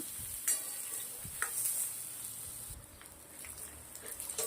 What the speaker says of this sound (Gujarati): ડુંગળી લસણ મસ્ત મજાનું શેકી લેવાનું છે